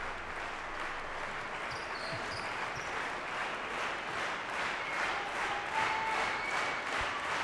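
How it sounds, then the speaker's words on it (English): A crowd at the Grasshopper Cup 2014 squash final cheers and applauds in rhythmic waves, a loud sustained roar with pulsing clapping, filling the arena throughout. "crowd here getting really, really pumped up for what should be a really quite exciting finale"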